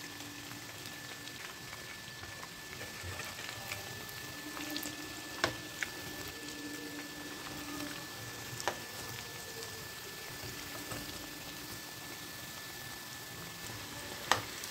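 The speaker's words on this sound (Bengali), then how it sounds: "আমি এইভাবে মিডিয়াম ফ্লেমেই ভালো করে ভেজে নিচ্ছি।" A snack frying in oil over a medium-high flame until golden brown, giving a quiet, continuous sizzle with occasional sharp pops and crackles.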